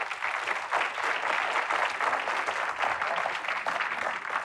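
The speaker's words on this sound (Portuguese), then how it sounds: "Vamos, aplauda" A congregation claps during a Portuguese-language sermon, a steady, fairly soft wash of many hands applauding that holds evenly through the whole stretch.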